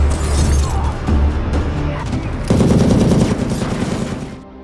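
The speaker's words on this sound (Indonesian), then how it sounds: "Untung saja tembakan mereka pada meleset sebab diganggu oleh ular." Loud gunfire from an action film in which two gangsters shoot at a woman marine from long range: a continuous volley of shots and crackling bursts, close and heavy throughout, with a dull boom partway through.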